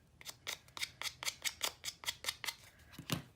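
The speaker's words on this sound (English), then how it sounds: "I don't have a distress tool, and I find the edge of my scissors works just fine" A rapid series of about a dozen crisp scraping sounds of a scissors edge distressing paper, steady and evenly spaced, close up, with no talking.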